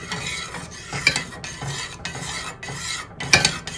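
Spoon stirring vanilla into chocolate ganache in a bowl, rhythmic scraping strokes with occasional sharp clinks against the side, close and fairly quiet, with no talk.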